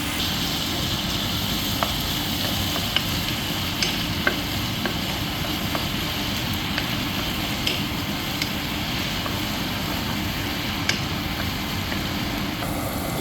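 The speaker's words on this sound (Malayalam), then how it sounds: "ഇത് ശരിക്കും വഴണ്ട് വരട്ടെ, ഒരു ബ്രൗൺ കളറാവുന്ന വരെ, ഇതിൻ്റെ പച്ച മണമെല്ലാം മാറുന്ന വരെ ഇങ്ങനെ കിടക്കട്ടെ" Onions sautéing in a pan for a rabbit pepper masala roast, a steady close sizzle and crackle with faint scattered pops running evenly throughout.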